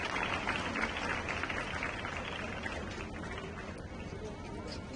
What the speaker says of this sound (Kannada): ಜೋರಾಗಿ ಚಪ್ಪಾಳೆ ತಟ್ಟಿ ಅವರು